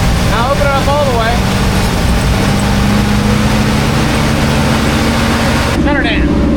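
A Chevy C10 squarebody with a cammed V8 and Holley carburetor runs steadily in a loud, rough idle, with a person talking over the engine.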